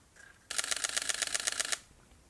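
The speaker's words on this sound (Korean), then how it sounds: "이 바디는 초당 10연사가 가능한 제품입니다. 하이입니다." A camera shutter fires in high-speed continuous mode at ten frames per second, a close, crisp, rapid rattle of about a dozen evenly spaced clicks lasting just over a second. Near silence comes before and after the burst.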